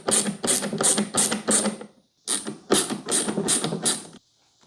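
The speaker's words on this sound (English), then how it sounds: "we're going to put 4 screws from the back out of that same bag" Phillips head screws being driven into a Sun Joe pressure washer part, two loud close bursts of rapid ratcheting whirring separated by a short pause, with no voice over it.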